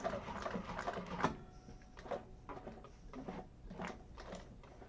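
A hand-cranked sewing machine stitches a handbag in short, uneven bursts of mechanical clatter, each run of stitches separated by brief pauses, close and fairly quiet with no talking.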